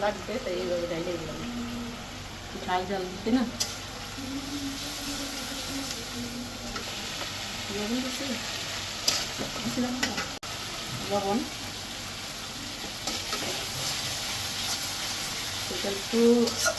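Spices with turmeric and coriander powder sizzle and get stirred in a pan with scraping spatula strokes, a soft steady frying hiss under intermittent talk.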